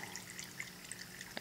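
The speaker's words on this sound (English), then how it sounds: "It's like a filter and it's pumping the water down my waterfall." A vivarium filter pump sends water pouring down a lava rock waterfall, a faint, steady trickle with small splashes and drips throughout.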